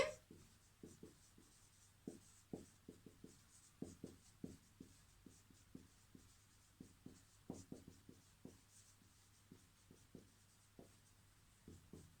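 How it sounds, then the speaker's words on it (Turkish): Chalk writes on a classroom blackboard during a lesson on figures of speech, a steady run of sharp taps and short scratchy strokes, close and clear, with no one talking. "Hemen tahtaya yazıyorum örneğimi."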